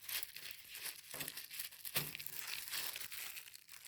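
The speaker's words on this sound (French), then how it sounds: "je vais tout sortir du petit sachet" Small items from a cross-stitch kit, such as embroidery scissors and thread bobbins, being pulled out of a small plastic zip pouch, with steady close crinkling and rustling of plastic throughout.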